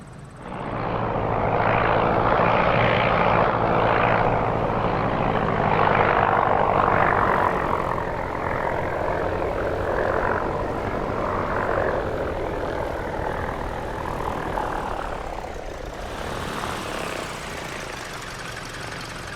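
Piston engine of a PA-38 Tomahawk light aircraft in the X-Plane 11 flight simulator drones steadily and loudly for the whole stretch, easing slightly toward the end, with no talk.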